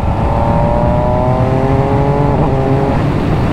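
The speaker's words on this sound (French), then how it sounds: "ce qui est bien des 3 cylindres, c'est que ça monte dans les tours et ça watt dans les tours" MV Agusta Brutale 800 RR three-cylinder motorcycle engine revving hard, a loud, continuous howl climbing in pitch and then easing off, heard alone without talk.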